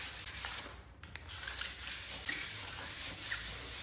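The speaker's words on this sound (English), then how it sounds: "I was still feeling that timber being quite rough underneath my sandpaper" Sandpaper rubs over rough timber in close, scratchy strokes that repeat steadily at a quiet level, and no one speaks.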